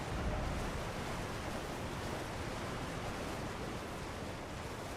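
In the video game Elden Ring, a waterfall pours with a continuous broad roaring rush, steady and fairly close, with no talking.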